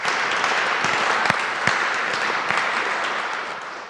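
Lecture audience applauding steadily to welcome the speaker, a dense, close wash of many hands clapping alone with no talk, holding level throughout and easing slightly at the end.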